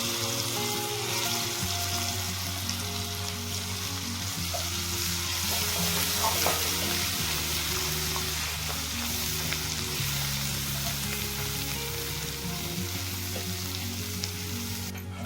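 Ground masala paste for a village-style fish curry fries in a hot pan with a continuous close sizzle, broken by scraping stirs, and a low steady hum runs underneath.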